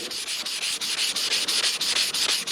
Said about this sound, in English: And I just dipped it in a little bit of water. It's called wet sanding.